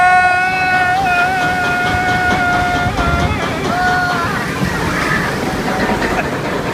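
Water sloshes and splashes around a log flume boat on the Wild River ride at Luna Park, Coney Island, a loud steady wash of water and wind under excited high-pitched voices and shouts from riders.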